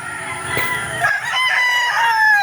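A gamecock rooster kept as a broodcock crows once, loud and close, a strained drawn-out call over faint background clucking.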